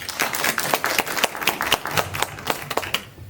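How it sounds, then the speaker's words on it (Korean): An audience at a maritime university forum claps to welcome a professor, with distinct, close claps in an uneven, lively rhythm that taper off near the end. "여러분들 큰 박수로 우리 전현동 교수님 맞아주시기 바랍니다"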